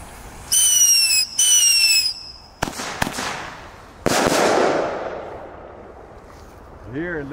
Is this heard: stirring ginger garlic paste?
no